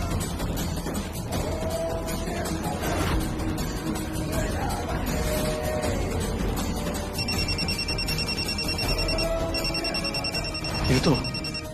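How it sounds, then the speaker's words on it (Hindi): A phone rings with repeated bright electronic trills in the background, partly under other room noise and faint voices. "ये तो हॉस्पिटल से फोन है"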